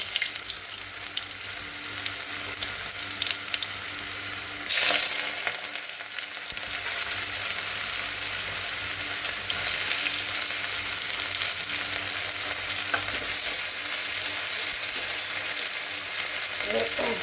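Onion and whole cumin fry in hot oil with a constant loud sizzle and an occasional stir, close up and with no one talking.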